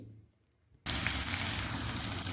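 Garlic and ginger hit hot oil for a tadka. After a near-silent pause, a sudden loud, crackling sizzle starts and holds steady and close.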